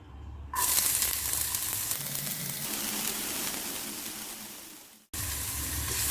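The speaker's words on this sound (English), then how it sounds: "So now in the same pan I will add the chopped garlic and onion." Chopped garlic and onion sauté in the same pan used earlier for crisp baby potatoes in a honey chilli potato dish, giving a loud, steady sizzling hiss that breaks off briefly near the end and then resumes, with no talking.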